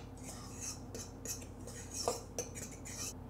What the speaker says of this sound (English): meanwhile I'm gonna whisk this together